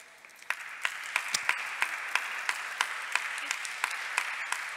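An audience at a Mediterranean ocean and blue-economy event gives a guest warm applause, a steady wash of clapping with a few sharper individual claps standing out at a regular pace.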